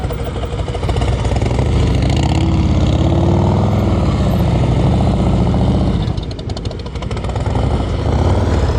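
Motorcycle engine held on steady throttle during slow-speed riding practice, a continuous loud, close rumble that wavers slightly and dips briefly near the end before recovering.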